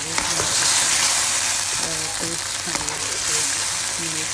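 Tomatoes fry in a mutton karahi, making a steady close sizzle with occasional stirring sounds, while a voice murmurs faintly in the background.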